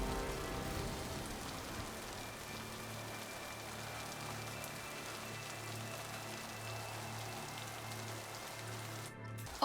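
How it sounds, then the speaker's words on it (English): Steady rain falls in the video game Mass Effect 2, a soft continuous patter under a low ambient hum, with no talking. "Oh look, it's raining."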